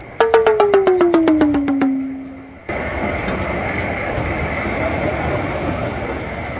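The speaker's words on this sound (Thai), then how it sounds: "ก็เรียกว่ารถไฟนี่มาอย่างไวเลยนะครับ" A train arriving quickly at a station in Korea: a rapid series of sharp chime-like tones falling in pitch, then a steady rushing rumble of the train with faint clicks.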